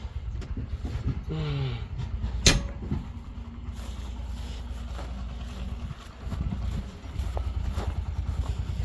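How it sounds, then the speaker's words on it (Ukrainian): A door pulled shut in a shop with a sharp knock and creak near the middle, over steady engine-like hum and wind noise. "Надо двері закрити зараз"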